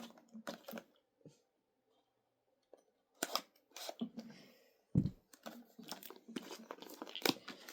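Scissors snip through Beyblade X multipack toy packaging in short close bursts of cutting and crinkling plastic, separated by quiet gaps.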